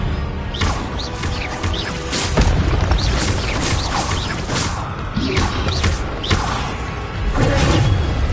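Incendio spell casting in the video game Hogwarts Legacy, a busy, loud run of fiery bursts, whooshes and impacts layered with combat crashes, continuous throughout.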